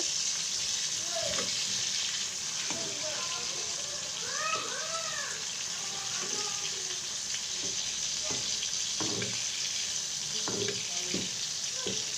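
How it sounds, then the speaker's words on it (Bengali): Fish frying in a pan, a steady bright sizzle running throughout, close and loud, with occasional clinks and scrapes as the pieces are turned; a few faint bird-like chirps sit in the background. "এখন পুরোপুরি মাছটা ভাজা হয়ে গেছে"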